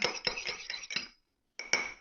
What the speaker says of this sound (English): also want to add an egg. I'm just going to beat that quickly.